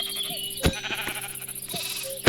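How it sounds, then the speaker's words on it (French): Sheep bleating in a blocky sandbox game, several short bleats with sharp clicks between them, set against a steady ambient tone. "Ah, parfait, des moutons."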